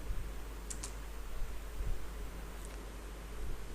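Fingers tapping a computer keyboard, several light clicks in quick bursts with short pauses, close and quiet over a faint background hiss.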